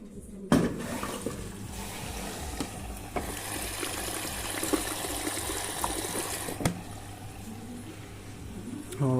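Water rushes and churns steadily in a washing machine on a rinse cycle with near-boiling water for clothes dyeing, a continuous sloshing flow with a couple of sharp knocks.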